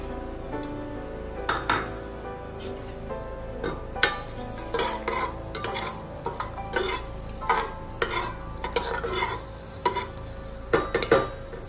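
Whole spices (cinnamon, black pepper, cardamom and bay leaf) frying in oil for an Odisha-style mutton curry: a constant sizzle under repeated close metallic clinks and scrapes as a spoon stirs the pan.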